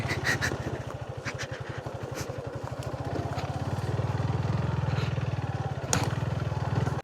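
A motorbike rides along a road with a steady, throbbing engine putter that grows slightly stronger midway, heard up close with light rattles and wind.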